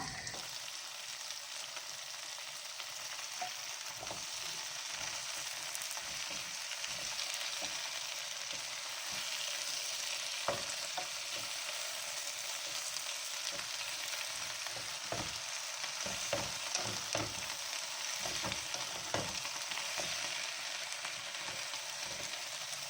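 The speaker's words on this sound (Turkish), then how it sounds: "Ispanaklar sotelenip suyunu salana kadar pişireceğiz." Spinach sautéing under a lid in a pan, a steady soft hiss and sizzle running throughout with scattered small pops and crackles, fairly quiet and close, no voices.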